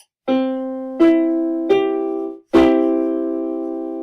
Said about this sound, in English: So a major triad sounds like this.